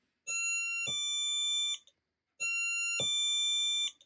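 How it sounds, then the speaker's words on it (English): Two electronic chime tones from a DIY NE555 timer two-tone doorbell sound in turn, one on button press and one on release, each a bright harmonic ding held about a second and a half, separated by a short silence, clear and close. "you get a 2-tone sound. 1 tone when we press and 1 tone when we release"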